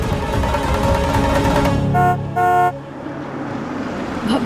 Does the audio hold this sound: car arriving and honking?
yes